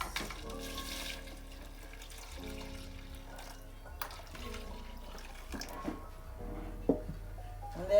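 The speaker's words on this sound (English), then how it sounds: "So now we're gonna go ahead and pour our coconut milk, our freshly blended coconut milk." Freshly blended coconut milk poured into a pot of provisions for Guyanese metemgee, a steady liquid gush and trickle like running water, near and moderately loud with a few clinks of the pot.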